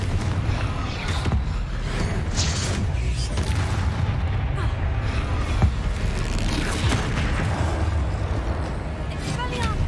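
Confringo blasting spell explosions from Hogwarts Legacy gameplay, a series of loud booms and bursts over constant battle noise and game effects, with a person talking throughout.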